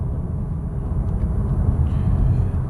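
A Cupra Formentor car engine rumbles low and steady, heard up close with a deep, continuous drone.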